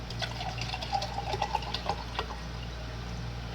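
Warm bottled water trickles and splashes as it is poured for fermenting cucumbers, a faint, close pour with light bubbling that fades out after a couple of seconds, no voices.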